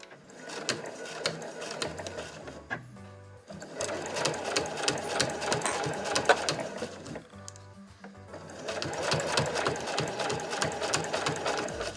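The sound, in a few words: home sewing machine stitching a quilted tote bag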